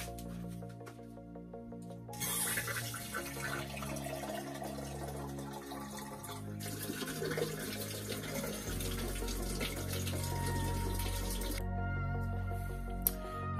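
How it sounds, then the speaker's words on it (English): Water runs steadily from a tap, pouring and splashing into a glass container for several seconds, with a soft hiss as it fills. "Let's begin by filling this glass container with some water."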